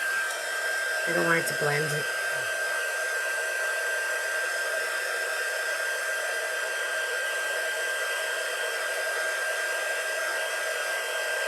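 A handheld hair dryer blows steadily, drying paint on a Christmas tea light ornament, a loud continuous whoosh and whine throughout, with a brief spoken line near the start.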